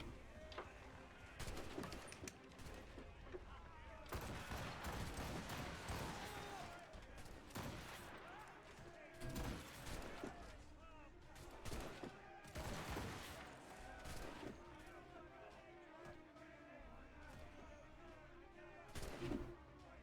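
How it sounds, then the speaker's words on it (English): A puckle gun fires from a ship in Assassin's Creed Rogue, irregular booming shots spread through the scene amid battle noise, with someone talking throughout. "this buckle gun's completely useless"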